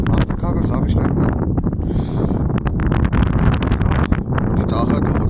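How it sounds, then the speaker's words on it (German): Wind buffets the microphone outdoors beside a scooter with a weak battery, a loud, constant rumbling roar that runs through the whole stretch with gusty rustling on top. "es sieht gerade ein bisschen windig aus"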